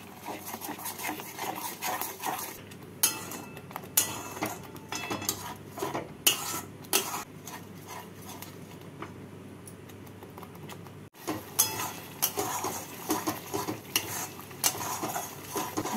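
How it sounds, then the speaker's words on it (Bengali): Spoon scraping and stirring a thick masala of strained yogurt, salt, Kashmiri red chilli powder and sugar frying in a pan for shahi paneer, with steady clinks and scrapes running throughout and a brief pause near the end. "এবার ভালো করে মশলাটাকে ভেজে নিচ্ছি।"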